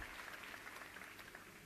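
Audience applause at an adult education award ceremony at a conference in Leipzig: an even wash of many hands clapping, steady and fairly faint, with no voices over it.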